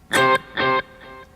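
An electric guitar strikes a short note through a double delay, followed by a loud echo and then a much fainter second repeat.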